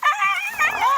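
A dog whimpers close by in a quick run of high, wavering whines lasting about a second, loud and alone.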